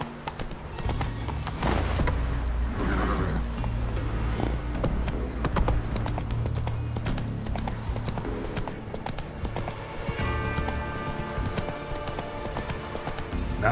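Roach, a horse in The Witcher 3, gallops with a loud, steady clip-clop of hooves close by, driving and continuous throughout over a low rumbling backdrop.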